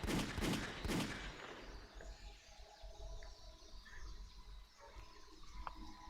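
Rapid bursts of gunfire from a VR shooter game firing licorice bullets, loud for the first second or so, then fading into a quiet ambient bed with faint scattered sounds.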